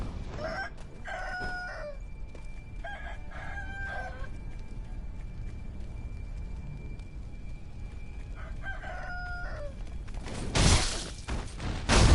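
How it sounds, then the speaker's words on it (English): Roosters crowing in Sekiro, Ashina Depths, several cock-a-doodle-doo calls at moderate distance over a steady ambient hiss, with a sharp burst of noise near the end. "There's also a few roosters here"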